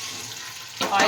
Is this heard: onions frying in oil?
yes